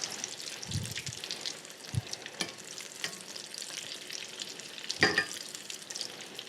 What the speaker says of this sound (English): since we're not using a true deep fryer, just gotta give them a nice little spin here